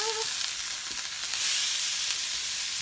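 Ginger, mushrooms, spring onions, yellow pepper and cabbage sizzle in a hot pan for a noodle bowl, a steady bright hiss with faint crackles throughout, alone and fairly quiet.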